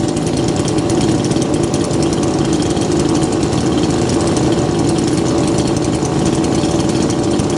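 A gasoline chainsaw runs steadily on the ground after a cold start, its loud two-stroke engine droning close by for the whole stretch without a break and with no talk.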